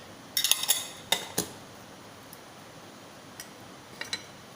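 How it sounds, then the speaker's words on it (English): Light clinks and taps of a glass petri dish lid being handled to clear condensation, a quick cluster of bright clicks early on followed by a few sparse, faint taps in a quiet lab. "removing the vapor from the lid of the petri dish properly."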